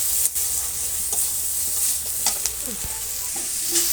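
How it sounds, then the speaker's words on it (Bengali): Brinjal frying in oil produces a steady, close hiss of sizzling, with occasional stirring clinks and scrapes against the pan. "বেগুনটা তেলে করে ভেজে নিচ্ছি"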